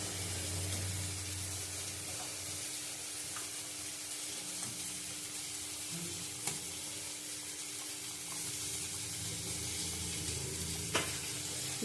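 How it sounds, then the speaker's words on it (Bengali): Fish curry gravy bubbles and sizzles steadily in a pot as a fish head is added, a continuous close, moderately quiet hiss with a couple of brief knocks. "ঝোলটা ফুটে গেছে। মাছের মাথাটা আগে দেবো।"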